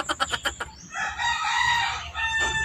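A rooster crows loudly and nearby, opening with a few sharp clucks before one long drawn-out cock-a-doodle-doo that trails off into a second rising call.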